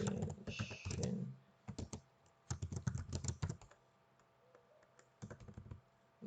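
Keys clatter on a computer keyboard in quick close bursts, with brief pauses between runs of typing.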